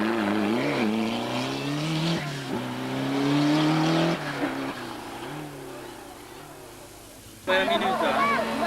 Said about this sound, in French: Leur Sierra Cosworth pointe au départ avec 3 petites secondes d'avance sur la BMW de Patrick Rouillard.